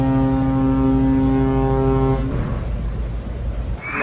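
A cruise ship's deep horn in a fishing video game blasts loud and sustained for about two seconds, then gives way to a rumbling engine and water wash.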